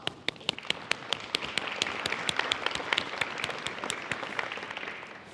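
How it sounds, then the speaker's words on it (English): An audience at a startup conference talk breaks into applause, sharp individual claps standing out over a steady wash of clapping, fairly close and continuing throughout. "I would love you to give a huge round of applause"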